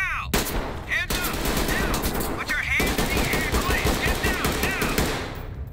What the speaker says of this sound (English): I see your shots, I'm coming.